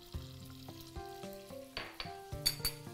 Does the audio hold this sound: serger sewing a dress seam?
no